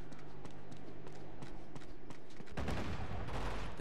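Gunfire in Uncharted: Drums of... rather, Among Thieves echoes as distant, irregular shots at first, then builds into a louder, denser burst of rapid fire in the final second, with no talk.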